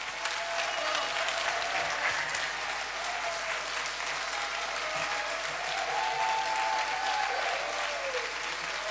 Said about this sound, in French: Alors des applaudissements s'il vous plaît pour Alan Roura. Standing ovation